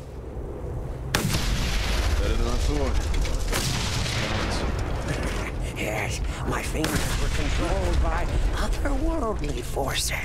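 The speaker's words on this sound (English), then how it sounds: "Time to put this sniper rifle to the test." Sniper rifle fire in the Mad Max video game: a sharp, loud blast followed by booming, rumbling shots and echoes in a dense, sustained mix, with voices talking over the top.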